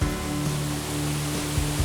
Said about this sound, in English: we're photographing waterfalls.